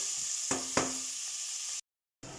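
Pork browning in a pan over full heat gives a close, steady sizzle with a couple of sharp stirring clicks, then a brief drop to silence before the sizzle resumes.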